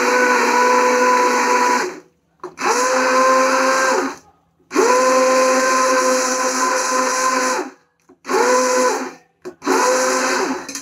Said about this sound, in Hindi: क्योंकि मैं ब्लेंडर कुकर खोलते ही चलाती हूँ